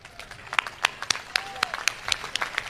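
Scattered, uneven claps rise from the audience at Hariom Panwar's patriotic poetry recital, a sparse, fairly quiet patter of individual hand claps with gaps between them and no sustained roar.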